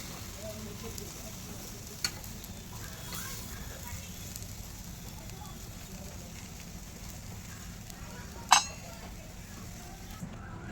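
A sandwich toasts in butter in a pan with a soft, steady sizzle throughout, broken by a couple of sharp clinks of a utensil against the pan; fairly faint and even, with no talking.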